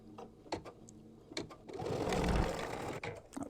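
A sewing machine stitches down the outer edges of a pocket and right panel on a quilted mug rug, whirring in a steady run after a few short bursts, close and clear, with no voices.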